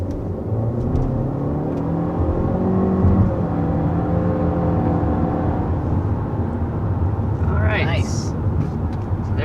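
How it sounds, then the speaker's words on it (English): A 2022 Honda Civic of the all-new generation accelerating steadily up to about 60 mph, with a continuous close engine and road drone whose pitch rises through the pull, a voice talking faintly over it near the end. "accelerating up to about 60 miles per hour with this all-new generation of the Civic"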